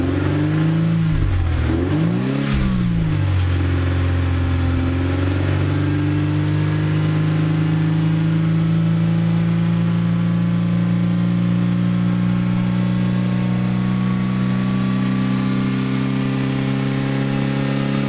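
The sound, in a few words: revving Mercedes W202 C230 engine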